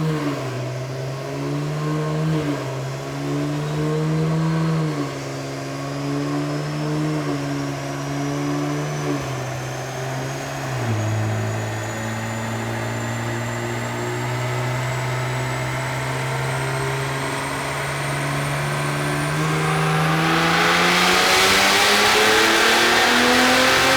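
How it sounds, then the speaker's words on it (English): A tuned Cadillac CT4-V Blackwing with a twin-turbo V6 makes a loud, sustained dyno pull, its rumbling engine note climbing steadily in pitch with a brief dip and shift, ending in a rising roar. "it doesn't sound like a normal twin turbo V6. It almost has a V8 rumble to it"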